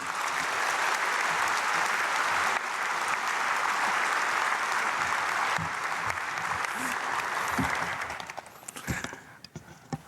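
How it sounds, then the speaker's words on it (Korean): A large congregation at a Myungsung Church dawn prayer service in Korea applauds as the guest pastor comes forward, sustained and loud for about eight seconds before tapering off into scattered claps. "우리 목사님 나오실 때 박수로 맞아주시면 감사하겠습니다."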